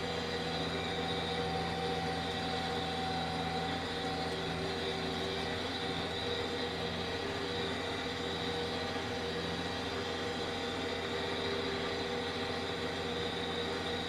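A continuous low rumble with steady tonal hums from a train passing on a nearby railway by farm fields outside Chipping Sodbury, sustained throughout with no talking.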